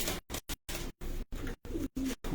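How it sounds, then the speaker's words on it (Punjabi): A Teddy pigeon on a rooftop loft coos in a string of short, evenly spaced bursts, each a few tenths of a second long with brief silences between, close and fairly quiet. "ਟੈਡੀ ਕਬੂਤਰ ਹੈ ਜੀ।"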